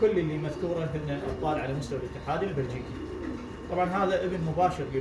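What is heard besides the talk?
No everyday noises stand out.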